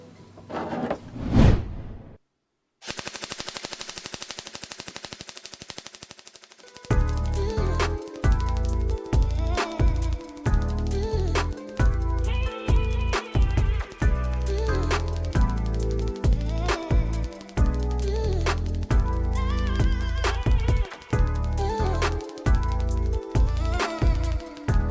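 A Golden Eagle Nambu Type 96 airsoft light machine gun fires BBs in sustained rapid bursts of about 12 rounds per second, loud and close, after a brief whoosh and a pause.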